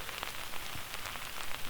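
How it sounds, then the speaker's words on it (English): Light rain pattering on a campsite in snowy weather, a soft continuous hiss with faint scattered drops, quiet and even. "it's not raining crazy. Very light rain."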